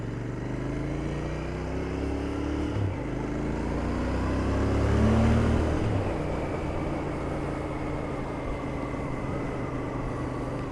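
Royal Enfield Interceptor 650 motorcycle engine on a test ride through Gillingham, a continuous loud drone that rises in pitch through gear changes, with wind noise and a swell around the middle.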